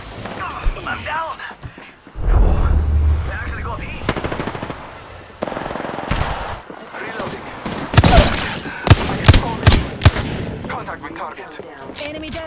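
Apex Legends gunfight on PS4 Pro: rapid automatic weapon bursts and heavy shots crack in clusters, loud and close, with sharp sequential blasts near the end, mixed with in-game voice lines and effects.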